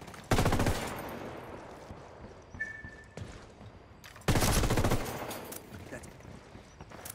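Video game gunfire in two loud bursts of rapid automatic shots, the first near the start and the second after a pause, with quieter scattered shots and game noise between them.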